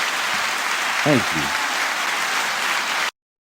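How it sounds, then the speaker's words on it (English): Applause from a podcast audience for a guest, dense and steady for about three seconds, with a brief spoken thanks partway through before it cuts to silence. "give him a round of applause, please"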